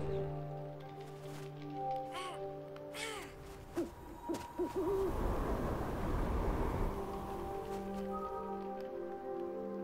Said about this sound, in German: Ich höre eine Eule.